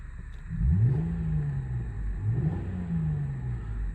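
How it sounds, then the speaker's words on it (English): A warmed-up 2002 Lexus GS300 engine revs twice in quick succession, each burst rising in pitch and then settling back to a low, steady idle rumble. "I'm gonna give it a quick rev."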